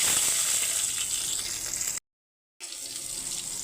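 Green chillies drop into hot fish-frying oil with radhuni seasoning and give a bright, hissing sizzle. It is steady at first, breaks off briefly, then resumes as a softer crackle, with no voices.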